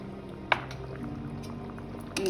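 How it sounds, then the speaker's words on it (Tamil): Rice water for vegetable biryani boiling in a pot, a steady low bubbling simmer with a brief clatter near the start and a louder swell at the end, no talking. "நல்ல கொதி வந்துடுச்சு"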